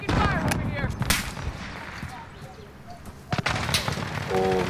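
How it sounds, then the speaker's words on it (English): Gunfire in a video game: sharp cracks of shots over a continuous loud battle din, with a few louder bangs standing out, fairly close and without clear talk. "Taking fire over here."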